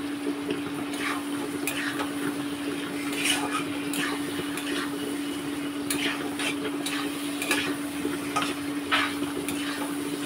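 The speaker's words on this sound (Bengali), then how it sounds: "আলুটাও ভালো করে কষে নিচ্ছি" Potato pieces being stirred and fried with softened onion and chilies in a pan, soft sizzling under repeated scraping strokes of a spatula at an irregular rhythm, with a steady background hum.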